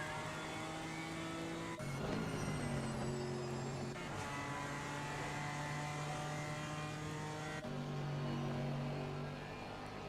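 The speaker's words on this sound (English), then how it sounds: "GT3 coming through" A GT3 race car engine roars past in a race, loud, harmonic whine shifting pitch with gear changes and revs, sustained across the whole stretch with brief dips between shifts.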